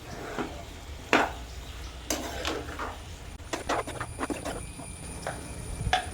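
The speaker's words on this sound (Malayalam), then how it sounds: "അത് എടുത്ത് നമുക്കിതിൽ നല്ല പോലെ ഇളക്കി യോജിപ്പിക്കണം" A spoon stirs soybeans into a curry in a pan, giving irregular scrapes and light knocks against the metal, close and uneven, with small gaps between strokes.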